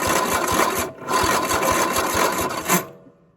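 Kohler V-twin engine is cranked by its original starter with the throttle low and choke off, giving a rapid rhythmic whirring chug that pauses briefly, resumes, then cuts off at the end.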